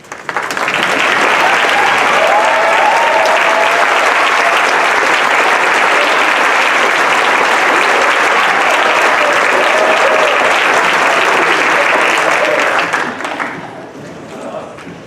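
A large audience at a senior recognition night applauds scholarship recipients with steady, loud clapping for about thirteen seconds before it quickly dies away.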